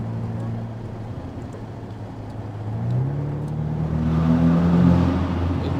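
Ferrari 488 Pista engine rumbling and climbing in revs, heard through an open window with a deep, growly low drone that swells toward the end; exhaust pops are not clearly distinct.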